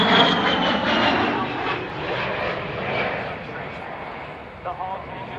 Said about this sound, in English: The A-10's two TF-34 turbofan engines add more than just power to its performance. They're also smokeless and much quieter than comparable engines.